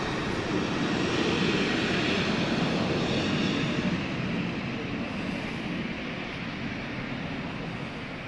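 A plane taking off at Lisbon Airport heard as a broad, steady jet roar from a distance, fading gradually over several seconds.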